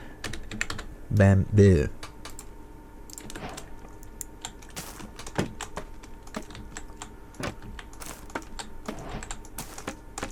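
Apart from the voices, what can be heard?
typing on a computer keyboard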